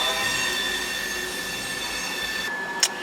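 A long train rolls past nearby with a continuous metallic rumble and high, steady wheel squeal, plus a brief sharp clank near the end; no talking.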